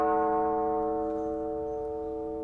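A church bell tolls once with a long, ringing decay of stacked harmonic tones, slowly fading and heard alone with no other sounds.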